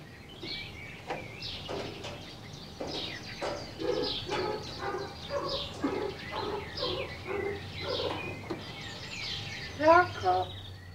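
A tame common raven, kept in an aviary and imprinted on people, gives a run of varied croaks and chattering calls that mimic human sounds, moderately loud and close, with a sharper burst near the end.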